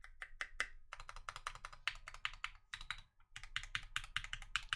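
Rapid typing on a Keycult No. 2 mechanical keyboard fitted with SA keycaps, a steady stream of close, crisp key strikes in quick bursts with one brief pause midway, played alone with no voices.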